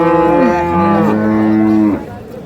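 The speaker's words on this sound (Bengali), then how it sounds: "এই যে দেখছেন মাংসের গরু" Meat cattle at the Ambari livestock market in Chattogram give one long, loud, close moo lasting about two seconds, then a quieter tail of market background.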